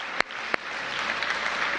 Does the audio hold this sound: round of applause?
yes